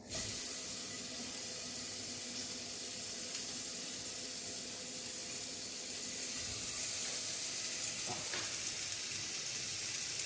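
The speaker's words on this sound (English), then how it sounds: "Okay, so we're gonna put our skewers." Halloumi cheese skewers grill in a hot pan, a steady bright sizzle that starts abruptly and holds evenly, close and moderately loud with no talking.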